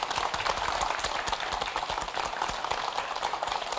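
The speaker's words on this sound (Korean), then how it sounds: "박수로 환영해 주시죠." A television studio audience applauds to welcome an orthopedic doctor guest onto a health talk show, a steady, dense patter of clapping, moderately loud and unbroken for a few seconds.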